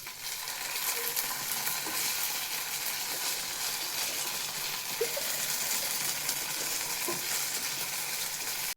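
Sandwich filling mixed with tomato ketchup in a hot pan gives a continuous close sizzle, with a few light scrapes and taps of the spoon against the pan and no voices.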